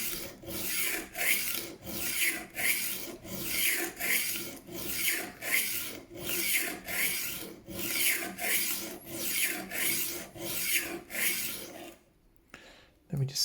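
A knife edge is worked on a Work Sharp rolling knife sharpener, giving a steady series of about sixteen loud, rhythmic rasping strokes, close up and without talk, before a brief pause.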